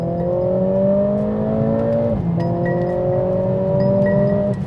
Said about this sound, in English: when you accelerate fast, it does make a lot of good sounds, and also the pops and crackles